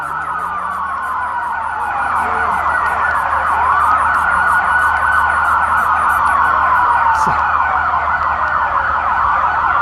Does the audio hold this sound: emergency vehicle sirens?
yes